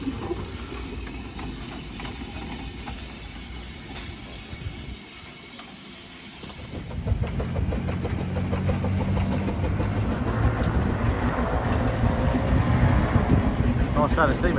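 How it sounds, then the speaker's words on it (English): Model steam locomotive running on a layout at an indoor model railway show, a rhythmic chuffing and mechanical clatter that swells in after a quieter start, with crowd murmur around it. "Nice sound of steam engine, that one."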